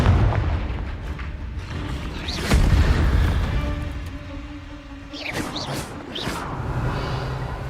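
The Confringo spell explodes in Hogwarts Legacy with a heavy boom near the middle, followed by crackling and bright magical whooshes over a rumbling game soundscape.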